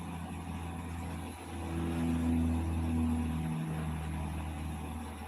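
A vehicle passing on the road outside a house, a low engine hum that swells to a peak and fades away, heard from indoors at moderate distance with no talk.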